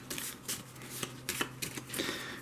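Cards for the Zombie Apocalypse dice game shuffled close up in a quiet room, a run of crisp riffling bursts and soft flutters repeating over a couple of seconds with no talk.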